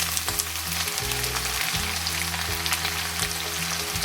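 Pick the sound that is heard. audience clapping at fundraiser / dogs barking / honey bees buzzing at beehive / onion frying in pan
onion frying in pan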